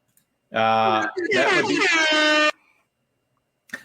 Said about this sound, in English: I'll give him an air horn for that one.